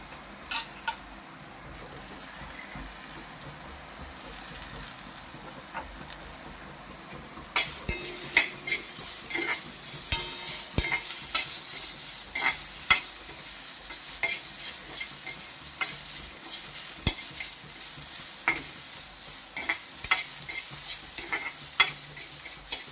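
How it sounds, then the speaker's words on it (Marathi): Finely chopped onion tipped into a pan of frying bitter gourd with chilli, steady oily sizzle throughout and a metal spoon scraping and stirring, getting busier after the onion goes in; no talking. "आता कांदा टाकते."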